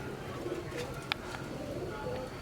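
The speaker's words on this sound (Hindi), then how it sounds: "ये गहरे सलारे कबूतर हैं, रिजल्टेड कबूतर हैं और ब्रीडर हैं" Dark Salara breeder pigeons coo in a low, steady murmur in their loft, with faint voices and a brief click over the background.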